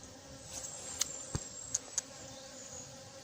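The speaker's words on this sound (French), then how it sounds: "Les abeilles sont actives. Sur toutes les ruches" Honeybees buzz around the hives of an outdoor apiary, a faint, steady insect drone with a few brief closer fly-bys.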